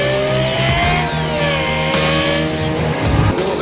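A Lexus LFA engine screams at high revs like a racing car, a loud, continuous, raw howl with rising and falling pitch sweeps as it is driven hard.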